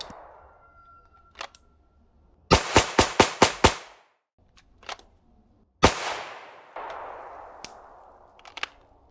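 Springfield Prodigy pistol firing on a range, a sharp rapid string of about six cracking shots, then a few lone louder reports with gaps between, close and loud over faint background.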